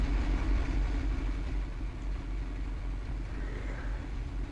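A tank engine runs steadily in the Sprockets tank designer game, a continuous low rumbling drone with a slightly uneven idle-like texture that holds at moderate loudness throughout, with no voices over it.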